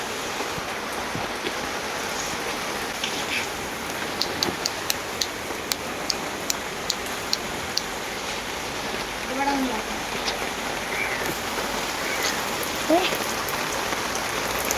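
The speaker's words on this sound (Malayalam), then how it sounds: "മഴയാണ് കേട്ടോ" Steady rain pours on surfaces around a village home in Kerala, a constant hiss of drops with scattered ticks and drips, with faint voices now and then.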